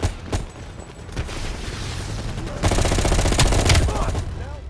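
Rapid automatic gunfire bursts and booms in Call of Duty Black Ops Cold War, loud and dense, intensifying in the second half, with voices talking over the shooting.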